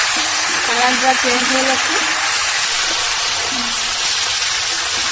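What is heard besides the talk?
raw mango lightly frying in a pan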